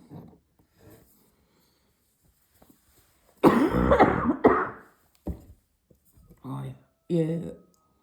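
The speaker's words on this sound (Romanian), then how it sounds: "Aș vrea să mă pot abține cât tușesc, dar chiar nu pot" Coughing fits from a woman, a loud burst of several harsh coughs followed by a few shorter throat-clearing coughs, close to the microphone with quiet pauses between.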